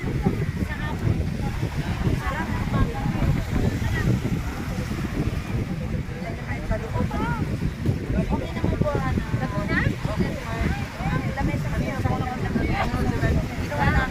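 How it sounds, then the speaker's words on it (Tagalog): Steady gusty wind off Manila Bay at Dolomite Beach buffets the microphone outdoors, a constant rumble with faint voices talking underneath. "Sarap ng hangin, grabe."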